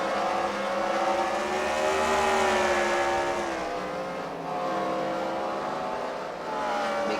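Race cars on an oval track at a CWRL Fight Night event at the Freedom Factory, their engines droning steadily with overlapping revs rising and falling as the pack circles, with no talking.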